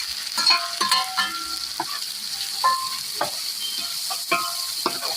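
Onion, ginger, garlic and chili stir-fry in a pan over a wood-fired stove for chicken chilli, with a steady close sizzle and repeated scraping stirs of the spatula throughout.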